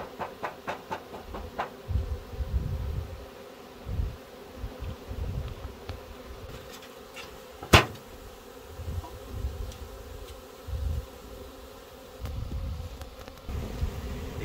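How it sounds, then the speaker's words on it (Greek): A swarm of honeybees pours into a hive, a steady close insect buzz with pulsing low hum and occasional sharp knocks, no voices. "Όλες τώρα θα μπουν στην κυψέλη. Καταλάβανε ότι είναι η βασίλισσα μέσα και μπαίνουν."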